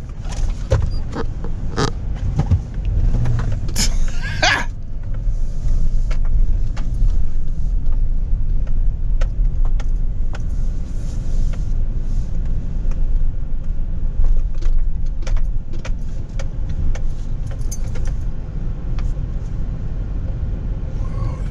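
Cars sit in a traffic jam at a property lot, making a steady low idling rumble that stays close and constant, with occasional sharp clicks and knocks over it.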